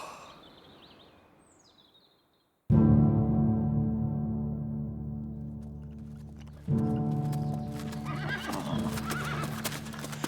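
Horses clip-clop and whinny close by, with a loud neigh rising suddenly after a quiet stretch and a second burst of hooves and whinnying following, with faint birdsong early on.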